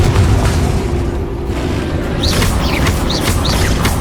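Fiery spell blasts in Hogwarts Legacy combat, several sharp whooshing bursts in quick succession over a dense, loud rumbling battle bed, with bright crackling flares near the end.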